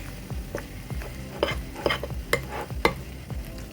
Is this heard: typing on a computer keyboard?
no